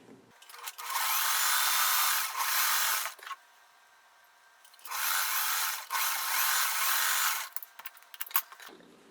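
A sewing machine stitching together scrappy quilt squares for a large 12-inch four-patch block, running in two steady whirring bursts of a couple of seconds each, with a pause between them and light handling noises at the end.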